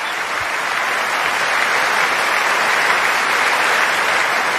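Wimbledon crowd applauding at the end of a women's singles match, a dense, steady roar of clapping from a large stadium audience that holds at full strength for the whole stretch with no voices rising above it.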